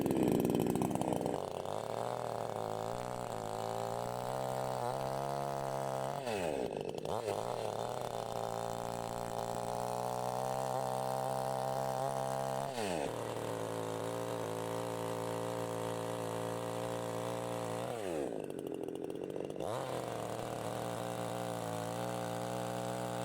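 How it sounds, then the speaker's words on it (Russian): A petrol chainsaw runs loudly for a long stretch during old-house renovation, its engine pitch climbing and dropping as it bogs into wood and revs free between cuts. "Я очень рад, что мы приобрели бензопилу."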